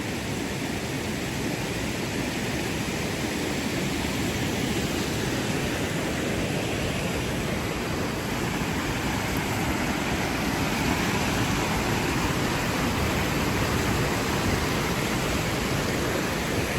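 A creek in North Cascades National Park rushes beneath a footbridge, a dense, steady broadband roar of flowing water that holds loud and even throughout, with nothing else breaking through.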